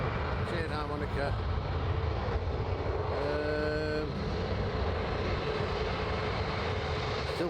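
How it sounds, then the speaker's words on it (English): Airplanes taking off at Manchester airport, a continuous loud engine roar with rising whining tones heard from a distance; a voice talks over parts of it. "Still coming out, some planes. They're still on the way."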